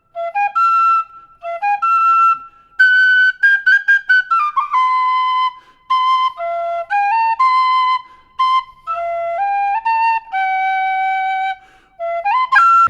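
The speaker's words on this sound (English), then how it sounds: "Let's go Irish tin whistle." An Irish tin whistle plays a lively, clear melody alone: quick runs of bright, pure notes with short breaths between phrases, stepping up and down through the tune.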